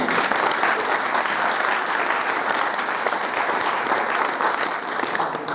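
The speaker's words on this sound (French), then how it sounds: "Je voudrais que vous l'applaudissiez encore" Sustained applause from a ceremony audience honouring the outgoing head of the Guinean government, dense and steady throughout without pause.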